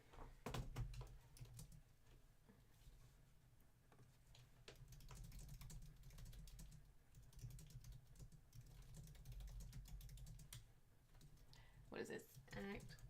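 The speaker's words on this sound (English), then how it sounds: "Keyboard." Rapid typing on a computer keyboard rattles on steadily for several seconds at close range, with low-level background noise and a brief voice near the end.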